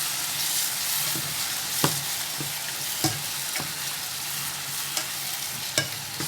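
Vegetables fry in a pan with a steady close sizzle, punctuated every second or so by sharp scrapes and knocks as a utensil stirs them, with no talking.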